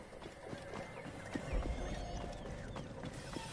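Horse hooves in Assassin's Creed Origins, a quiet steady clip-clop of footfalls with a faint neigh partway through, set against soft game ambience.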